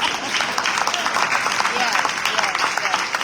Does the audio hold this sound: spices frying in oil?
no